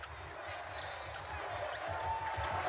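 An arena crowd at the 1984 USA versus Canada basketball game cheers in a steady, broad roar that swells slightly toward the end, heard fairly faintly from a distance.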